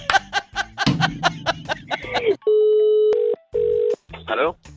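Telephone tones ahead of a phone call: a steady dial tone and beeping dial sounds follow close, lively talk and laughter, with the tones sounding loud and clean in short blocks.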